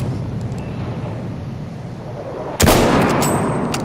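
A sharp, loud blast lands partway through as a K bullet rifle round strikes a surface in Battlefield 1, its impact ringing out briefly over a low, steady game rumble.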